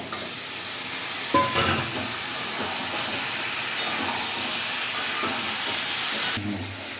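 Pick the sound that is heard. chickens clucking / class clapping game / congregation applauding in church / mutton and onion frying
mutton and onion frying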